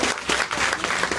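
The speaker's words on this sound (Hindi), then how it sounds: "आप लोग भी आप लोगों के लिए जोर जोर जोर से ताली बजाओ" Loud, dense clapping from a crowd gathered for a Bhagwat katha religious recitation, a brief burst of vigorous applause with no voices on top.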